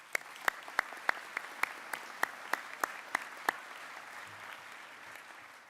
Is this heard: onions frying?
no